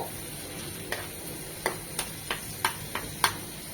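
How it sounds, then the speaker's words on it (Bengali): Vegetables and chicken frying in oil in a pan, a quiet steady sizzle broken by several sharp stirring taps of a utensil against the pan. "জাস্ট দু এক মিনিট একটু ভেজে নেব ওই তেলে"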